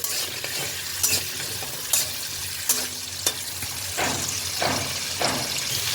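Potatoes with salt and a little turmeric fry in a pan under a continuous sizzle, cut by sharp scraping stir strokes roughly every second. No voices.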